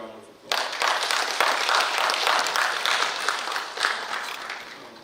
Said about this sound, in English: Let's all welcome them with a big round of applause.